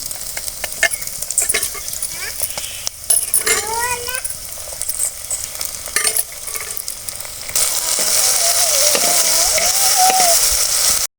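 Onions sizzle and get stirred in a pan, with spoon scrapes and clinks, before drumstick leaves go in for a Tamil-style murungai keerai poriyal. The sizzling then grows into a steady, louder frying hiss as someone talks over it.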